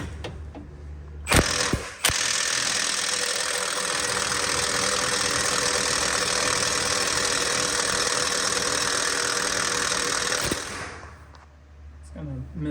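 A wrench ratchets on a locking nut of a Prevost bus, producing a loud, continuous mechanical whirring and clicking that runs for several seconds between sharp knocks before fading out.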